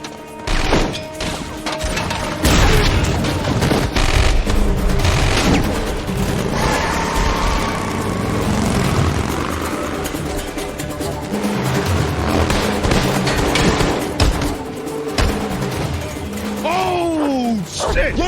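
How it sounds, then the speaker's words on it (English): Bursts of gunfire ring out during a high-speed movie car chase, loud and dense over roaring engines, crashes and shouting voices, with tire squeals near the end. "Lay suppression fire!"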